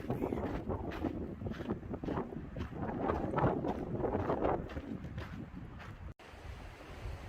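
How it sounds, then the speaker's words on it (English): Strong wind roars and buffets the microphone in continuous gusts at the Grand Canyon, with a brief dropout near the end. "It got really windy in here for a moment."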